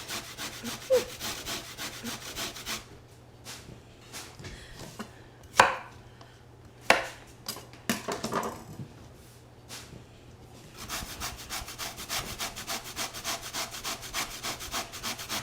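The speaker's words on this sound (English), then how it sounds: "So I'm going to keep grating these." Sweet potatoes scraped across a grater in fast, continuous rasping strokes at the start and end, with a quieter middle stretch broken by several sharp knocks and clatters.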